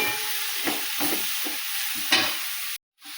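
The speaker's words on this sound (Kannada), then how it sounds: "ಈಗ ಚೆಂದಾಗಿ ಮಿಕ್ಸ್ ಮಾಡ್ಕೊಬೇಕ್ರಿ." A fenugreek leaf and sorghum flour mixture is stirred in a hot pan, with scraping strokes and a steady low sizzle before a brief drop to silence near the end.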